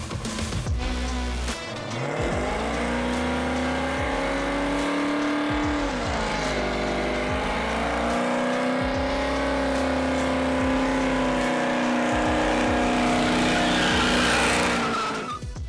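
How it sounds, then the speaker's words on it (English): A loud V8 engine revs hard and holds high while tires squeal continuously through a sustained burnout at a car show, pitch rising and falling as the throttle shifts. "he's about to do a burnout"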